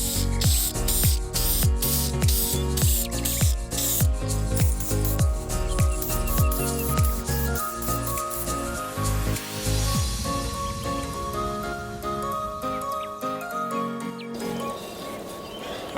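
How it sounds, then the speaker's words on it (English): An aerosol spray can lays gray primer onto the front bumper of a 2000 Dodge Dakota, with a rapid series of short hissing bursts up close that give way to a longer, softer continuous spray. "I'm gonna throw my first coat of gray primer."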